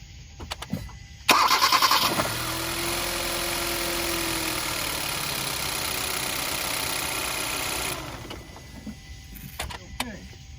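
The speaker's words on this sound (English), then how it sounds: "I crank the car up just to make sure everything is okay" A 2012 Kia Rio cranks briefly and fires up after spark plug and ignition coil replacement, settling into a steady close idle for several seconds before shutting off, with faint clicks around it.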